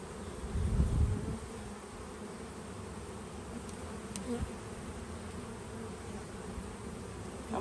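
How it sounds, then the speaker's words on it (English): A swarm of honeybees buzzes steadily while a bee package is installed, a dense droning hum throughout, with a louder close pass near the start and faint handling noises. "when you have a million bees, sometimes it's not"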